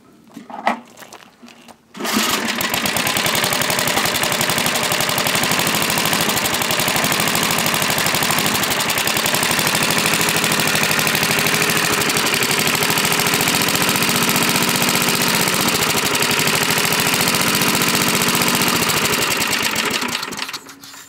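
A generator engine running on homemade wood gas produced from burning wood catches and starts after a brief sputter, then settles into a loud, steady, continuous mechanical drone that holds unbroken until the end.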